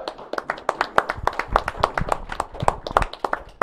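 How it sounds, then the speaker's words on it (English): Studio audience clapping on a local tonight-style talk show, a fairly small crowd whose individual sharp claps stand out in a lively uneven rhythm, close and clear. "Please give her a round of applause"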